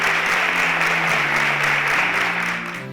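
Steady audience applause fills a television science competition studio as semi-final contestants leave the stage, a dense continuous wash of clapping that holds evenly for a few seconds before easing slightly at the end.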